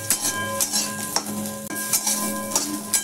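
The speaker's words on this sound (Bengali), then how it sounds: "মাছটাকে একটু ভালো করে ভেজে নিয়ে" Loitta dried fish fries in a pan while being stirred, giving quick rhythmic scrapes and clinks over a constant sizzling hiss, with a faint steady hum in the background.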